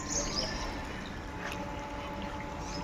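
Fresh water pours steadily into a swimming pool at a villa in Badlapur, a continuous rushing, splashing wash with no voices over it.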